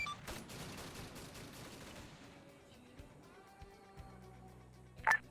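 Artillery fire mission shots in a military video game, a burst of rapid distant blasts at the start that fades into quieter rumbling, with a few scattered thumps after and a brief sharp noise near the end.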